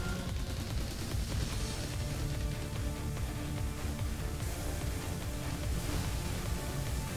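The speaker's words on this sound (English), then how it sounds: "I can hear his Gauss cannons going off" Gauss cannons firing in the space-combat game Galactic Junk League, a dense, loud, unbroken barrage of rapid blasts and crashes that fills the whole stretch.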